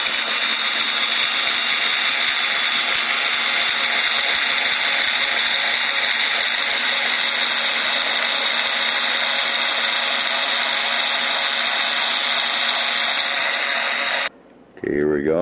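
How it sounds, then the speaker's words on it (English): A drill whines steadily at high speed, loud and close, drilling through a plastic model kit for a long stretch before cutting off abruptly near the end. "we're just going to drill through it"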